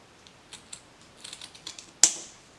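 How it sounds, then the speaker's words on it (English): Scissors snip ribbon for an Easter wreath, a string of small quiet clicks and rustles close by, ending in one sharp crisp cut. "So I have my ribbon here, and I'm gonna cut it."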